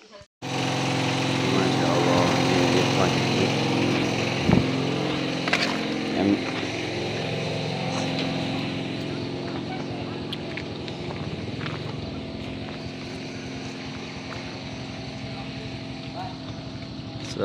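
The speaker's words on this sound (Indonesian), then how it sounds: "Sini pakai genset. Lampunya mati." A power generator engine drones steadily in an earthquake-hit area of Cianjur with the lights out, a constant nearby rumble that begins abruptly and runs for the whole stretch, with people talking over it at times.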